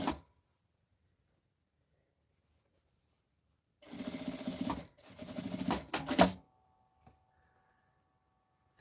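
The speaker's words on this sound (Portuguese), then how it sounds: "Vou começar a costura aqui." A sewing machine stitches fabric for a small pouch in two close runs of rapid mechanical whirring, each lasting about a second, with a brief pause between them and quiet surrounding them.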